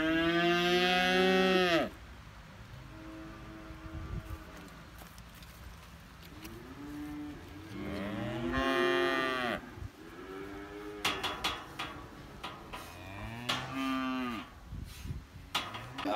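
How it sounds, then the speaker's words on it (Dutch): Cows on a farm moo repeatedly as they are herded indoors, long low calls rising and falling close by, several overlapping in bursts across the clip with farmyard background noise between. "Koeien die gaan nu naar binnen, toe, zo."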